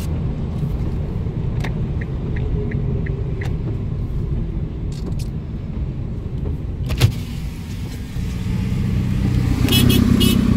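Police cars drive off on a street, a steady close engine rumble that swells louder toward the end, with a few faint clicks and no clear talking.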